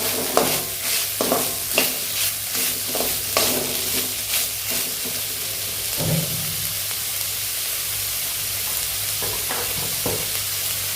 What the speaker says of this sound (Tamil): இந்த வெங்காயம் நல்லா வதங்கணும், சரிங்களா?